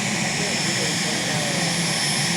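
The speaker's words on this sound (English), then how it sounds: "it's basically a jet engine, 4 wheels, steering wheel, and a human in the car" A jet-powered drag racing car at a night drag race at Keystone Raceway, Pennsylvania, gives off a steady, loud roar with a high whine, and people talk over it.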